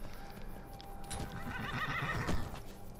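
A horse in the Skyrim video game gives a loud whinny over a steady game ambience, joined by clip-clopping hooves. No one speaks.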